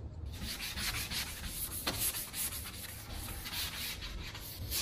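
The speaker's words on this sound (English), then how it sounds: "So we'll just go ahead and scuff this edge." Dry, rhythmic rasping strokes of 1500-grit sandpaper scuffing the painted edge of a car panel, close and fairly quiet, with short repeated back-and-forth rubs and no talking.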